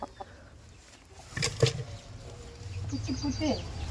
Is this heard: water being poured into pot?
no